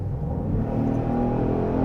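Genesis GV70 six-cylinder engine with active sound design set to strong, producing a deep, steady low-pitched drone that resembles a V8, heard close and alone at a constant level without talk.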